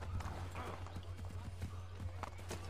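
Horse hooves clip-clop in Assassin's Creed 3, a steady walking rhythm of soft thuds under a low droning game soundtrack, with a voice talking over it.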